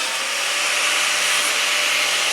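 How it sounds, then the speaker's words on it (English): Steady, continuous grinding hiss from cleaning up a fresh weld on a Series 3 Land Rover bulkhead, a loud, unbroken abrasive rush held close up, with no talk over it. "just going around now and cleaning up the weld"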